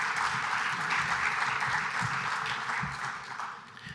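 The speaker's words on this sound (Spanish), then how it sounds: "Un aplauso." Audience applause at a business conference panel on marketing and branding, a sustained wash of clapping that thins out toward the end, with no talk over it.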